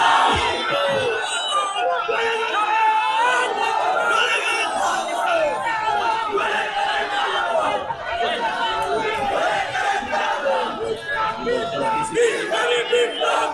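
A large crowd at a Bangladeshi Islamic religious gathering in Comilla chants the takbir together, a loud, dense mass of voices rising in unison and sustained throughout.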